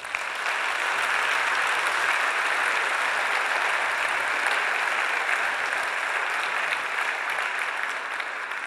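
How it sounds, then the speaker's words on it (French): Sustained audience applause inside the Palais Garnier opera house during a national ceremony following a ballet and piano performance, an even, dense wash of clapping lasting throughout with no speech on top. "On peut les applaudir encore."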